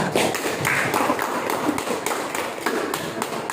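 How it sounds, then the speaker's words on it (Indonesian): Pupils in a school classroom applaud a classmate. The scattered, lively clapping runs for a few seconds, fairly close and moderately loud, with a few sharper taps standing out. "tepuk tangan buat kawannya"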